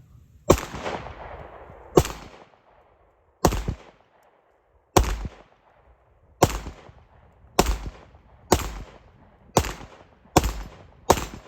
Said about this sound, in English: Loaded fine, let's shoot it on the steel.